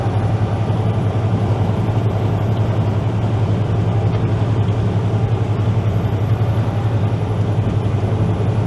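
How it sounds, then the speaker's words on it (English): A beer truck drives past, a loud steady diesel drone with a deep low hum, heard close and continuous from inside another vehicle on the road. "Got a beer truck going by me."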